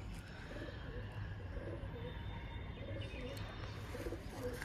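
Small female pigeons coo in soft, repeated low phrases at a gentle rhythm, fairly quiet against a steady background hum, with a few faint chirps.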